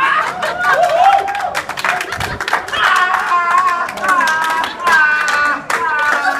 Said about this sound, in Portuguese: E aplaudido de pé pelo pirula, hein?